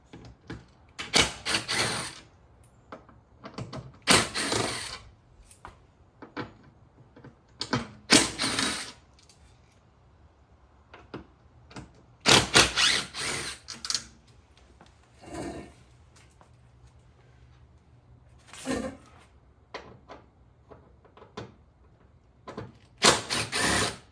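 Bursts of ratcheting, scraping and clattering tool work come in irregular clusters as under trays and shear plates are removed from the underside of an Aston Martin V12, with quiet pauses between.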